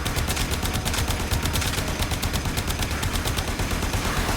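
Boltor weapon in the Warframe game firing continuously in rapid automatic bursts, a dense loud chatter that runs the whole time with no voices over it.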